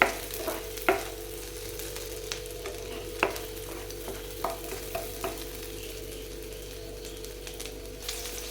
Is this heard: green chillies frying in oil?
yes